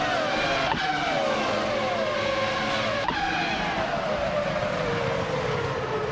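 Race cars in a racing video game launch off the start at Kyalami, among them a 2000 McLaren MP4/15, with loud, steady engine roar and rising gear-change whines filling the whole stretch.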